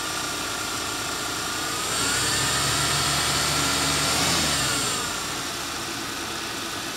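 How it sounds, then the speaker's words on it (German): A 1971 Lincoln Mark III engine idles smoothly after a carburetor overhaul, a steady loud rumble that swells briefly in the middle as revs rise and then settle back. "Und solange der Motor so schön läuft und nachher auch im Leerlauf so läuft"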